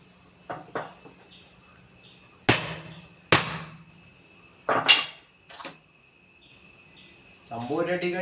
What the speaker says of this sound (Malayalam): അപ്പോൾ ഫസ്റ്റ് ഡൈ അടിക്കാൻ പോകണം കേട്ടോ.